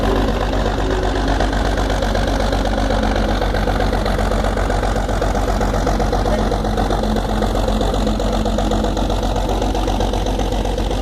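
A 1932 Lawson tractor engine runs steadily at a working farm show tractor parade, a loud, continuous mechanical drone that holds an even pace from start to finish with no talk over it.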